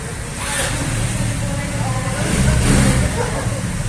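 A second-hand Rusi RFI 175 motorcycle in glossy gray runs at a steady idle nearby, its low engine rumble continuous throughout, with people talking over it.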